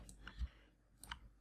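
A computer mouse is right-clicked during 3ds Max modelling work, giving a couple of faint, brief clicks against quiet room noise, close but very soft, with no talking.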